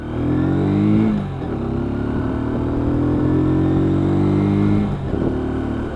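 A WK Scrambler 125cc motorcycle pulling away up a hill, its single engine revving loud and close through a rising gear, briefly dropping in pitch at a shift and climbing again, with no talking.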